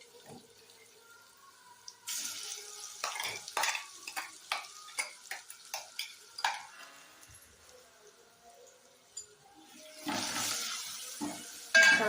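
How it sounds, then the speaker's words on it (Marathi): A masala of ground cumin, coconut and garlic fries in oil while a spoon stirs and scrapes it in a quick run of close clacks and shuffles, then a louder sizzling burst near the end, no talk. "आपण मसाला चांगला परतून घ्यायचा"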